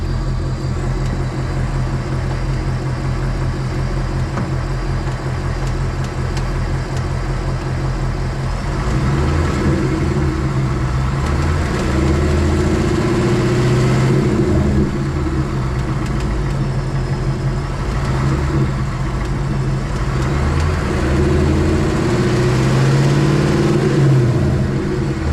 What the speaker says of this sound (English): when you rev it like a little bit, it does the tick like louder